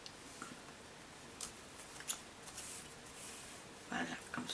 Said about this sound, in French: Et ensuite, on va le couper.